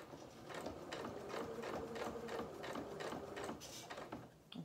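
Sewing machine stitching a culottes seam, a steady close rhythmic chatter of needle strokes running continuously for several seconds before easing off, with no voices.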